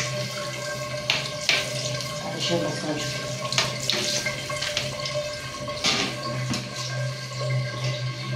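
Water runs steadily from a tap into a storage tank, a constant splashing rush with scattered clatters on top, while people talk nearby.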